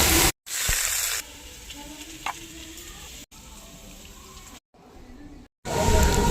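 Taro stem curry with sugar being stirred in a pan, a steady sizzling and scraping hiss broken by brief silent gaps, close and moderately loud with no talk.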